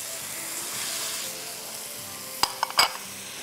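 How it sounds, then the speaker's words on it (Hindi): Keema, minced meat with green chilli paste and whole garam masala, sizzles softly in a pan while being broken up, a low steady frying hiss with a few sharp clinks of a spoon against the pan near the end. "अच्छी तरह कीमे को इस तरह तोड़ते जाइए"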